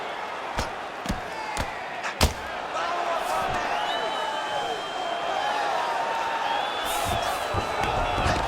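Arena crowd at a UFC video game fight cheering and roaring continuously at a moderate distance, with a few sharp thuds early on and a commentator talking over it.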